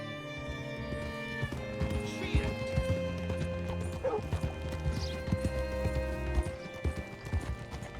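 Horse hooves clip-clop close by with a whinny in the Red Dead Redemption 2 game world, steady hoofbeats under faint game music and chatter.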